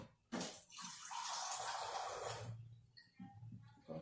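Water runs from a kitchen tap into a cup for taco dough: a hissing, splashing stream lasting about two seconds, followed by a few soft clinks and handling noises.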